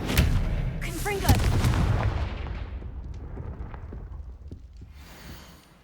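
In Hogwarts Legacy, a Confringo fire-blast spell goes off with a loud explosive boom at the start. The rumbling blast then fades over several seconds.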